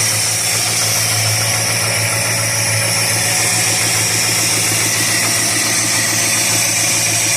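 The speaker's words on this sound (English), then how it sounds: "Let's just let that run a little bit. Yeah, she's running." A 1969 Dodge Dart engine, left sitting six months on old 10% ethanol gas, idles steadily with its choke unhooked on a warm day, a loud, continuous low rumble with a faint rhythmic lope and no voices.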